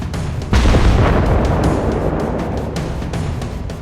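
Enemy battleship destroyed in World of Warships: a sudden heavy explosion boom that rolls into a long, loud rumbling roar with scattered crackles, close and dominant.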